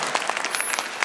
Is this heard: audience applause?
yes